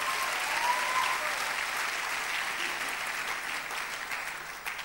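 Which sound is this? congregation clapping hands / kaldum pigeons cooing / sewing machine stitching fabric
congregation clapping hands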